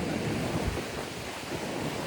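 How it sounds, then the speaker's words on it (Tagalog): Strong coastal wind sweeps over the north coast of Taiwan at Yehliu, pushing waves ashore. It makes a steady, broad roar with heavy buffeting against the microphone, and there is no talk. "Yan pala yung, yung hangin lang. Tas dinadala ng hangin yung waves."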